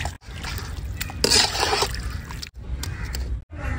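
Water pours into a pot of village-style turkey curry, a trickling splash that swells and fades in short bursts, close and moderately loud.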